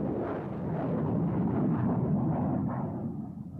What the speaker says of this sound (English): The MLRS, Multiple Launch Rocket System, was designed specifically to deal with enemy artillery concentrations